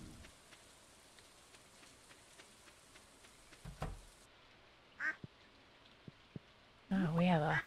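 Steady soft rain pattering throughout a rainy day on a farm in the video game Stardew Valley, with sparse drips and a burst of duck quacking near the end; no one speaks.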